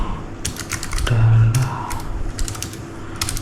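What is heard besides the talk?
typing on a Keychron K3 mechanical keyboard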